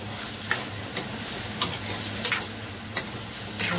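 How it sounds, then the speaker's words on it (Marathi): Onion with chilies sautés in a hot pan under a constant soft sizzle, while a spoon scrapes and stirs in short bursts about once a second, close by with no talking. "कांदा परतून घ्यायचं। मऊ असं होईपर्यंत परतून घ्यायचं."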